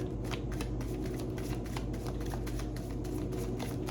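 Tarot cards shuffled by hand, a close, rapid riffling patter of light flicks running continuously, with no voice over it.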